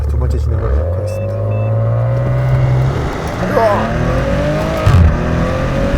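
A Maserati Ghibli SQ4 accelerates hard during a 0-100 km/h run, engine note climbing steadily through the gears with a brief shift dip, loud and close from inside the cabin, with talk over it.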